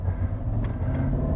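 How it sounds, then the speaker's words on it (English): A 2005 Maserati Quattroporte on the road, heard from inside as a steady low engine and road rumble, a constant drone with no voices. "Now it's time to get this thing out on the road and find out if at least the driving experience lives up to the Maserati name."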